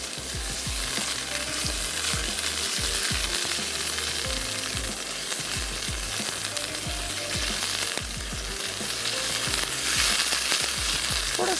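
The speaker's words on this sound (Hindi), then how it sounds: "थोड़ा सा इसको फ्राई होने देते हैं।" Boiled mutton fries with onions and ginger-garlic paste in a pan, a steady loud sizzle with frequent scraping stirs and clatter throughout, no one talking.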